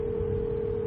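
A telephone dial tone sounds while a call is being placed, a single steady tone held for about a second, clear and alone with no talking.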